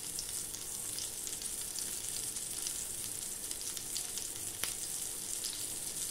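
Homemade breadcrumb-coated mixed-vegetable patties shallow-fry on a griddle pan, giving a steady, even sizzle at low level with one brief sharp click near the end and no voices.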